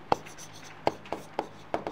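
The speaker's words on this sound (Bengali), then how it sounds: "সো এই তথ্য অনুযায়ী আমরা চিত্রটি আঁকছি" A pen draws a geometry figure on paper for a class 8 math problem, making five short, scratchy strokes spaced irregularly, close up and fairly quiet.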